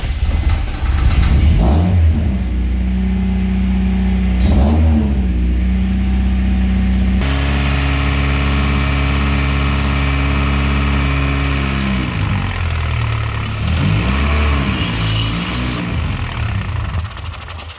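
A turbocharged Honda Accord with a budget F20B engine swap runs loud and close, idling roughly, then revving up and down several times with the pitch rising and falling, and no talk over it.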